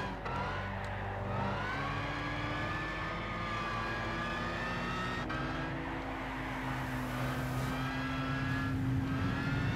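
Race car engines roar in Gran Turismo 6 while overtaking a Corvette, a sustained, loud engine whine rising slowly in pitch over nearly ten seconds, with no talk.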